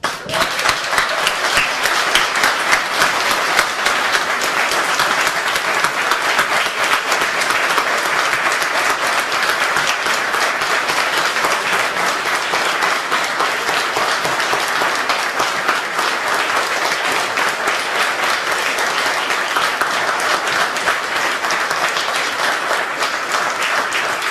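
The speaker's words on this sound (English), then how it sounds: "Suggest we clap 30 million times" Sustained, dense applause from a large audience at a university law school naming ceremony, celebrating a $30 million gift, steady and loud throughout with no break.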